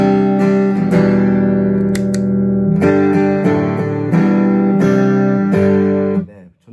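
Acoustic guitar strummed through an IC booster preamp with the gain and volume turned up, loud full chords ringing with a bright, forward tone, then fading out at the end.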